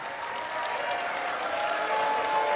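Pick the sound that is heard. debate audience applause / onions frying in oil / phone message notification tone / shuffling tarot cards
debate audience applause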